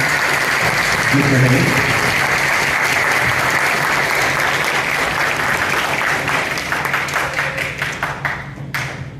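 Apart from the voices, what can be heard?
concert audience applause for the band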